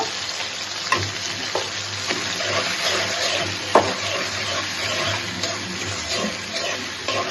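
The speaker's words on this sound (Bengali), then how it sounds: "এই যে দেখেন আমাদের চিংড়ি মাছ সুন্দর করে ভাজা ভাজা হয়ে গেছে" Shrimp sizzling steadily in a hot pan, a constant crackling hiss with a few sharp clinks of a utensil scraping the pan.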